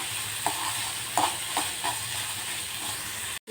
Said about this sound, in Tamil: இந்த சுண்டைக்காயை நல்லா வதக்கிடுங்க.